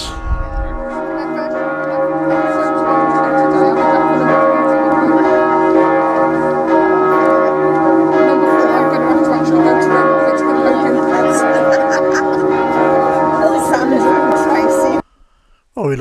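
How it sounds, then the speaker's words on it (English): Church bells ring out in Gamla Stan, Stockholm's old town, a loud sustained peal of overlapping tolls that continues for about fifteen seconds before cutting off abruptly. "Stockholm celebrated Pauline's birthday with the bells."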